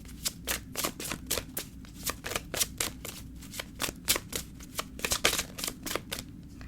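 Tarot cards being shuffled by hand in a steady run of rapid, papery riffles and flicks, close and moderately quiet, continuing without pause over a faint low background hum.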